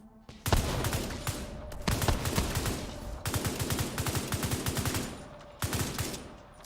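Rapid automatic gunfire bursts from The Division 2 video game, loud and close, in several sustained volleys separated by short gaps, with sharp repeated shots throughout.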